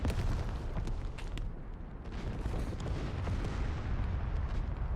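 Artillery fire in a World War II strategy video game set on the Russian front, with dense rumbling booms and sharp reports layered into a continuous, heavy barrage.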